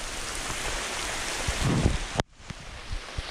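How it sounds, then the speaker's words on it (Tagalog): Heavy rain pours down at a camping spot in Bilangin, Bataan, a dense, loud, continuous hiss that cuts off abruptly partway, leaving a quieter patter with a few scattered drops. "Ang lakas ng ulan, no?"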